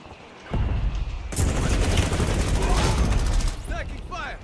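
Heavy gunfire in a Battle of the Bulge war video game: a loud wall of rapid, overlapping shots bursts in after a quiet start and rattles on steadily, with a voice talking briefly near the end.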